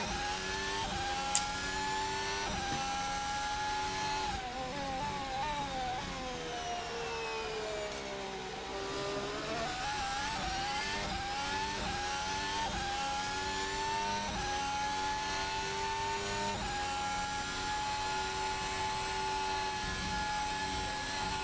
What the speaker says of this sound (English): I just love that Ferrari engine of the Sauber.